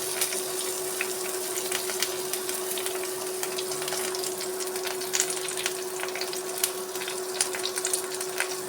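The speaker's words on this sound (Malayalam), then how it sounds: "നന്നായി ഫ്രൈ ചെയ്യുന്നുണ്ട്" Skewered prawns with curry leaves fry in a pan, a steady moderate sizzle with scattered small pops and crackles throughout, no talk.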